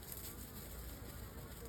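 Bees fly around a bucket swarm trap, a close, steady buzzing drone that fills the brief moment without any voices.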